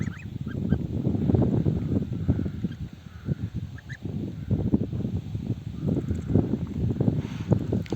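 A white goose honks repeatedly close by beside its newly hatched goslings on a farm, with a steady stream of loud overlapping fowl calls throughout.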